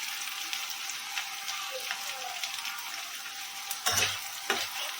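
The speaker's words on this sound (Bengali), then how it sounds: "পেঁয়াজটা একটুখানি ভাজা ভাজা হয়ে যায়।" Chopped onion fries in oil with cinnamon, bay leaf and dried chilli for a masoor dal tarka, giving a steady, hissing sizzle that swells into a louder crackling burst near the end.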